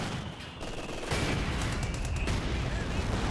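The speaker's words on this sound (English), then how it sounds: "Mortar's barrage and the Ziskans again." Mortar barrage in the video game Company of Heroes 2, heard as a dense, continuous rumble of overlapping explosions and gunfire with a sharp swell of blasts partway through; a voice speaks over the din.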